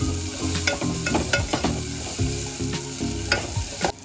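Chopped onion and finely chopped tomatoes frying in a pan for sambar, a steady close sizzle broken by repeated scraping and clattering stir strokes, with no one talking.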